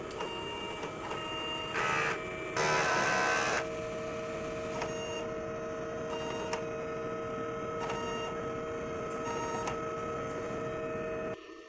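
An inkjet printer runs a print head cleaning cycle, a steady mechanical hum with tonal whine, brief louder carriage bursts and clicks, continuous and close, then stopping near the end.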